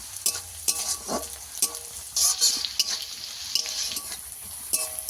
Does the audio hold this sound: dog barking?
no